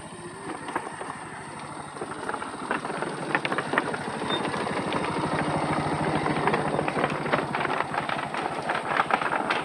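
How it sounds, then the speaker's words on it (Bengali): A motorcycle crosses a bamboo bridge over floodwater in Ghatal, its engine chugging in a fast, even rhythm with rattling underneath that grows louder and nearer, and wind buffets the microphone. "এখানে মোটর সাইকেলও পারাপার হচ্ছে।"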